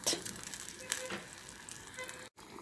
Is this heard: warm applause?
no